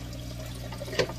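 Water from a Python water changer pours into an aquarium as a steady close trickle and splash under a low hum, with a brief sharper splash near the end.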